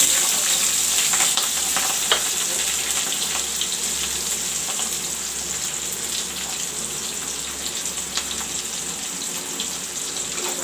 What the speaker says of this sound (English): Now I will let the onion fry.